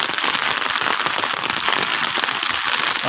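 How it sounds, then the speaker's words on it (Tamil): Rain begins falling, a dense, steady hiss of drops on surfaces spread evenly throughout, fairly loud and close with no talk. "மழை ஆரம்பிச்சு."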